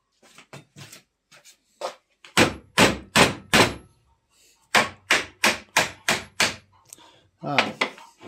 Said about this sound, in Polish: Spróbuję jakimś młotkiem stuknąć.